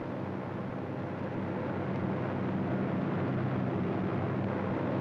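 B-24 bomber aircraft flying over a target atoll in 1944 wartime footage: a loud, steady, dense engine roar with broadband rumble that holds constant throughout, with no voices present.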